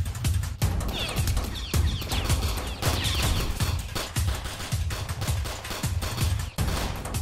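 Rapid bursts of gunfire in a Roblox hood roleplay game, dense overlapping shots and sustained automatic fire that stay loud and continuous throughout, with no talking.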